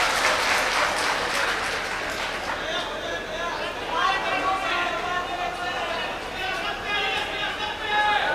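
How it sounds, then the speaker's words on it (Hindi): Applause from a mushaira audience rises in bursts of clapping mixed with crowd chatter and voices talking over it. "एक बार ताली बजाइए"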